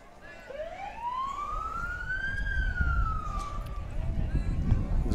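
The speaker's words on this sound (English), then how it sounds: "Police sirens are always what gets us started." A police siren wails in a single long rising-and-falling sweep at a Christmas parade on Broadway, heard at a distance over low rumbling background noise and faint voices.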